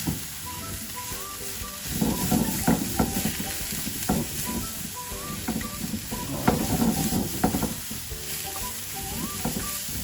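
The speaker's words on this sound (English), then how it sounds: "after adding all of this, need a quick stir" Spices and garam masala sizzle steadily in a hot pan while being quickly stirred, with rapid scraping strokes over a continuous close frying hiss.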